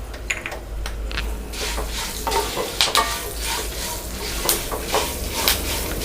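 Chopped ginger sizzles in a hot pan for Tamil ginger thokku, the stove just switched off so it softens in residual heat; a steady close crackle runs throughout, broken by repeated scraping stirs of a spoon against the pan.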